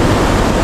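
Waterfall at Antankoyo near Matucana, a dense, loud, steady rush of falling water filling the whole moment with unbroken noise and no voices.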